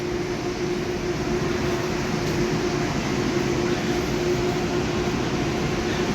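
Aboard a Sydney light rail tram, a steady low rolling rumble and hum continue evenly throughout, with no voices.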